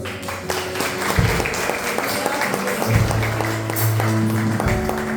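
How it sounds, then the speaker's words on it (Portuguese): A church congregation applauds, a steady wash of many clapping hands with sustained musical tones from instruments playing underneath. "Uma salva de palmas."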